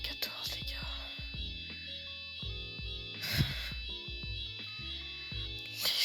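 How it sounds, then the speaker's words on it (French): Fire alarm going off at night in a building, a steady high-pitched electronic tone running throughout, faint and continuous beneath pulsing music. "Quand soudain, tout d'un coup, une autre alarme incendie."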